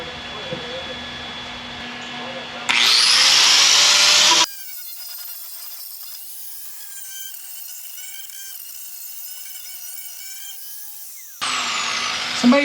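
Angle grinder fitted with a wire wheel cleaning sooty welds coated in weld-through zinc primer on a car floor panel repair, giving harsh, loud bursts of high whine and scraping at the start and end, separated by a quieter steady tonal hum.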